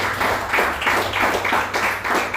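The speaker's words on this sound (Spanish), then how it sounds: "Denle palmas fuertes al Señor." Church congregation claps hands together loudly in steady rhythmic bursts, a dense wash of many palms filling the room with a continuous beat.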